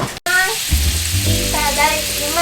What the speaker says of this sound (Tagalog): ipiprito lang muna natin konti tapos saka natin nilalagay yung marinate